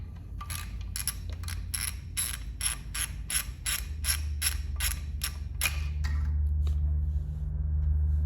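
A 3/8-inch ratchet with a 12mm socket clicks in a quick series of about a dozen sharp strokes as it breaks loose the tight oil drain cap on a 2014 Honda CRF250R, over a low steady hum, then stops.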